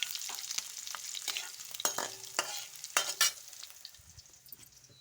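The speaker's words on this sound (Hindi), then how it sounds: "ये देखिए अभी डाले हैं अजवाइन, पक रही है। इसमें डाल दिए मिर्ची," Ajwain seeds and green chillies fry in a hot pan with a soft, steady sizzle, broken by sharp scraping and tapping from stirring at irregular intervals, close and fairly quiet.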